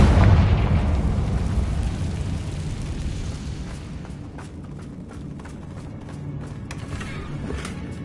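A Confringo explosive spell blast from the Hogwarts Legacy game erupts loudly at the start, a heavy booming burst that decays into a rumbling, crackling tail with scattered creaks and debris-like clicks.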